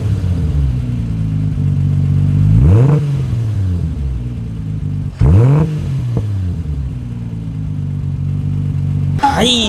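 Nissan R33 Skyline GT-R straight-six fitted with an HKS muffler idling steadily, then rising in two revs to about 3000 rpm and falling back, with a final sharp blip at the end; close and loud, no talking.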